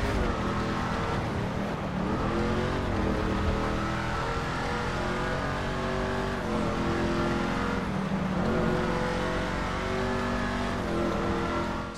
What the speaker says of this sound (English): This car is going to be absolutely horrendous at driving in the snow.